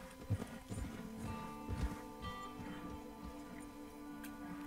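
Horse hooves clip-clop in Red Dead Redemption 2, a quiet, fairly steady run of hoofbeats over faint game ambience and low background tones.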